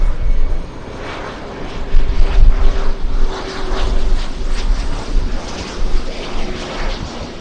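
An airliner arrives at LAX airport, its loud, continuous jet roar rumbling close by for several seconds with no voices.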